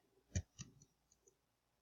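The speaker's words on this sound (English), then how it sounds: "I'm clicking join." A mouse button clicks twice in quick succession, close and crisp, while joining a group in the online game Roblox; a couple of fainter ticks follow.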